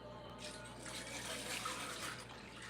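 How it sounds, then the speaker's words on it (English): Pasta water pours into a big pan of garlic shrimp for linguine, a steady soft liquid rush that stays fairly quiet and continuous throughout. "now we can add in our pasta water"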